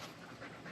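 A dog pants close by in quick, rhythmic breaths, a brief burst of steady huffing with no other sound over it.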